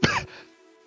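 A voice imitates a character waking up coughing: one short, harsh throat-clearing cough close to the mic, then a quick fade into near silence.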